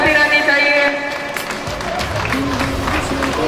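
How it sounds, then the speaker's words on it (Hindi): Applause carries on at the NCM Championship 2025 prize distribution ceremony, a continuous wash of clapping from the audience while a voice speaks over it at the start. "तालियां बजती रहनी चाहिए।"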